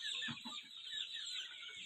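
A flock of about 850 desi chickens on a poultry farm clucks and chatters together in a steady, dense din, with a few louder clucks standing out near the start.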